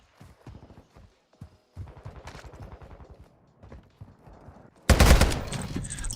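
Shotgun fire in a video game: after a stretch of quieter clicks and scattered shots, a loud burst of gunfire erupts near the end and keeps crackling.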